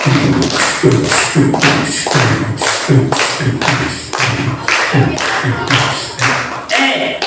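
Children clap in unison along to a storyteller's pretend train journey, a steady rhythmic series of loud, evenly spaced claps repeating for several seconds, close and prominent.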